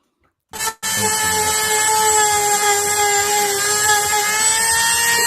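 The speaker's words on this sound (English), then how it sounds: "Is this you with a Dremel and a pumpkin?" A Dremel rotary tool carves a pumpkin, starting with a brief burst and then holding a loud, steady high-pitched whine for several seconds.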